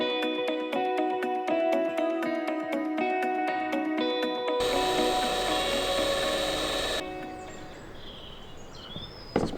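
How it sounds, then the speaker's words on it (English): A power drill pre-drilling screw holes in a Transit van roof for a MaxxFan Deluxe install, with harsh whirring bursts followed by a steady grinding stretch, then a quieter scraping tail. "Pre-drilling the holes for the screws."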